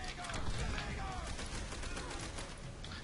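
Sustained bursts of rapid gunfire fill a World War II shooter game, a dense unbroken fusillade of shots running loud throughout.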